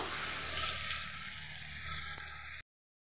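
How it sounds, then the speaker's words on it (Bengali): Masala with ground mint and coriander sautés in a pan for chicken biryani, a steady close sizzling hiss with faint stirring that cuts off abruptly before the end. "এবার আমি মশলাটাকে কষিয়ে নেবো।"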